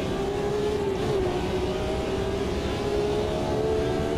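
A sustained race car engine drone in the racing game Automobilista 2 at Long Beach, with a steady tonal whine that rises and falls slightly, loud and close, like a car holding speed.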